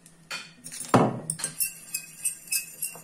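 A utensil stirs a milk and anise mixture in a bowl, a run of light, close clinks and scrapes, one louder knock near the start and then quick, fairly regular taps against the container, with no talking.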